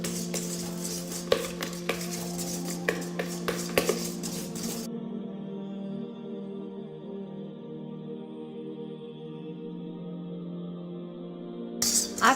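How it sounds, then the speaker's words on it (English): A whisk beats a thickening mixture in a mixing bowl set over a pot of hot water, making rapid, rhythmic clinking and scraping strokes for about five seconds. A low steady hum follows and lasts until the end. "I've been whisking away for about 5 minutes now."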